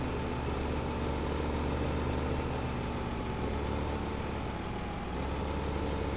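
A tractor engine drones steadily in the Farming Simulator video game, a constant low mechanical hum at moderate level with no speech over it.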